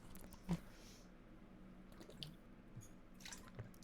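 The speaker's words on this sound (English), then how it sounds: "Let me take a sip of water." Someone sips from a water bottle, giving quiet close-up wet slurps and drips with small swallowing clicks scattered over a few seconds, faint and with no talking.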